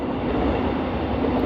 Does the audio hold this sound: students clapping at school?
no